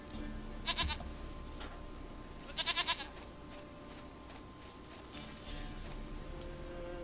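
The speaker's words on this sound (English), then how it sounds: "Goat of mine, dearest, sweetest goat." A goat in The Witcher video game gives two short bleats, one near the start and a slightly longer one after, over quiet game ambience.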